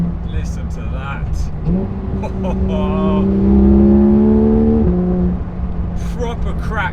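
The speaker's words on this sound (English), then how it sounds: "Proper cracks on the upshift." A Porsche 911 GT3 RS engine revs up through the gears with a rising howl, then pops and cracks from the exhaust on an upshift, heard from inside the car, loud and close.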